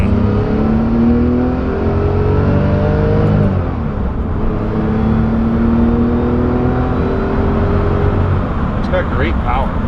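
A 1970 Porsche 911E pulls hard on the road, its engine loud and close from inside the car. It climbs through the revs, drops at a gear change, then climbs again under steady road and wind noise.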